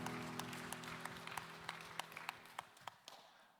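A church congregation at a Sunday young adults' service claps together, a soft, fairly distant patter of applause that thins into a few scattered individual claps before fading out.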